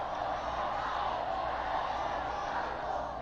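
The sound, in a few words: crowd chanting "Benedicto" at papal welcome ceremony in Mexico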